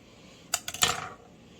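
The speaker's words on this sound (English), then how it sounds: "On both sides, make a lengthwise cut with a knife." Kitchen knife slitting lengthwise through thick plantain skin, a few close, crisp scraping and clicking bursts over about half a second, alone in a quiet room.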